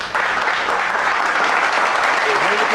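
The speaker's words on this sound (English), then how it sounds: "Let me clap for him" Steady clapping, dense and continuous like a small crowd applauding, with no talk over it.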